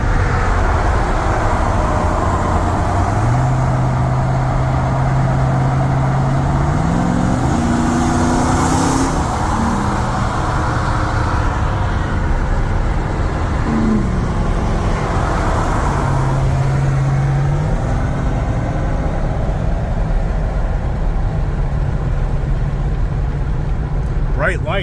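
A Ram TRX pickup truck drives on the road with a constant loud engine and road roar, its pitch stepping up and down as it shifts through gears, and no clear talk over it.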